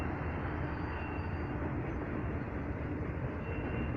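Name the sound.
train on railroad track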